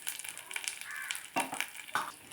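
Chopped cabbage pieces crackle and sizzle in hot oil in a pan, a close, steady frying hiss broken by sharper pops and stirring scrapes.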